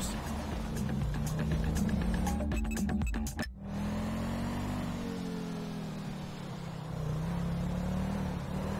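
A car drives steadily in GTA 5, its engine a constant low hum with a brief cluster of clicks and knocks early on, then smooth cruising with slight rises in revs.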